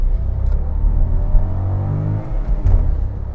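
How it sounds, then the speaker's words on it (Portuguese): A Citroën Basalt under full-throttle acceleration produces a loud, close engine rumble and whir that rises steadily in pitch, briefly dips as if shifting, then climbs again, with no talking. "Vou fazer uma aceleração aqui sendo vazio então, ó. Vamos lá, devagarzinho, pisei fundo."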